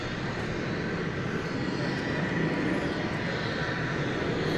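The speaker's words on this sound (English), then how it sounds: "It's a 777 going out from the American Airlines hangar." An American Airlines Boeing 777 jet departs from the hangar at DFW Airport with a loud, broad engine roar that rumbles and hisses steadily through the whole stretch, with no voices over it.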